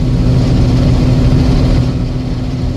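A tractor engine drones loud and steady at a sunflower field during harvest, a continuous low rumble that runs unbroken with no voices over it.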